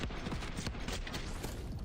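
Pistol gunfire in the video game Black Ops 6, a rapid run of sharp shots and mechanical clacks heard close, mixed with game sounds and no talk.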